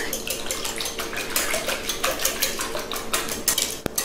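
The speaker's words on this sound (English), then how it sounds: "I'm going to whisk it all together" French toast custard of eggs and vanilla whisked in a bowl: fast continuous metallic clatter of a whisk against the bowl, close and busy throughout, with one sharp knock near the end.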